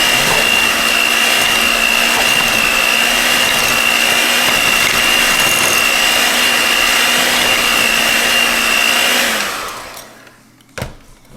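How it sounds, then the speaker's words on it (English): An electric mixer whirs steadily through keto almond joy chocolate chip cookie dough, a loud constant motor whine holding for about nine seconds before cutting off, followed by a brief clunk. "I'm going to mix that in here."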